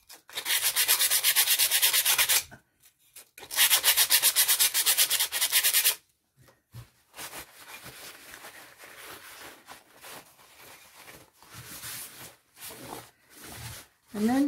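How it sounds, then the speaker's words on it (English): Fine 80-grit sandpaper rubs along the edges of a handmade coaster in two long, loud, steady sanding passes, followed by quieter scraping and handling sounds with some talking. "You come in with a, I think this is an 80, a fine grit sandpaper."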